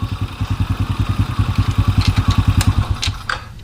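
A Honda Wave 100 motorcycle engine idles with a steady, rapid thumping beat, then is switched off and sputters to a stop, leaving a few clicks and quiet.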